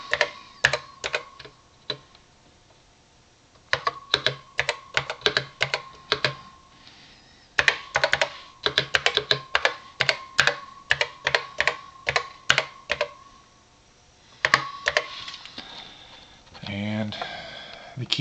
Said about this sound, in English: So we could type on the screen.